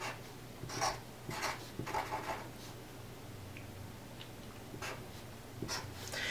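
A pen scratches across paper in short separate strokes while drawing a dashed line, soft and close against a quiet background hum.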